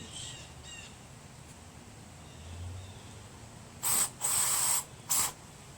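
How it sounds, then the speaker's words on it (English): Three short hissing bursts of aerosol cleaner sprayed into a Walbro carburetor from a Craftsman Briggs 14.5 OHV engine, near the end, after a quiet stretch with faint background sounds. "It's good when you spray it in one hole and it comes out the other way"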